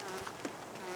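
Honeybees buzz while a hive is being installed, a dense steady drone from many bees with a few louder close passes, continuous and fairly faint with no talking.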